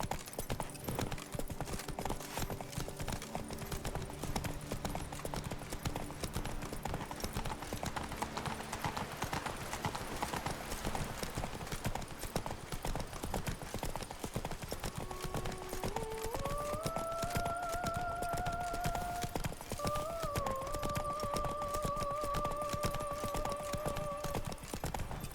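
Horse hooves clip-clop at a steady galloping rhythm in The Witcher 3: Wild Hunt, continuous and close throughout, with a whinny and tonal game sounds rising near the end.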